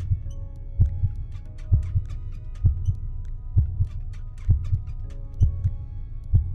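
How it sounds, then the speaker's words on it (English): A looping heartbeat sound effect from the video game Escape the Backrooms, playing glitchily after leaving water: steady paired low thumps repeating about once a second, alone over a faint low hum with no talk. "There is a bug where the heartbeat sound will play after you get out of the water."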